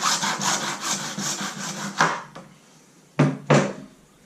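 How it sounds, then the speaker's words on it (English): A hand saw cuts through PVC pipe indoors in a kitchen, with a run of quick rasping back-and-forth strokes, then a pause and two sharp final scrapes as the piece comes free; close and clear with no talk. "lets you cut PVC in the kitchen. We're just going to cut that off. Cuts really easy."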